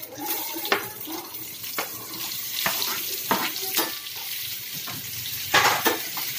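Asafoetida and onion fry in oil for a chicken gravy tempering, giving a steady loud sizzle with scattered stirring knocks and scrapes, close up and without talk.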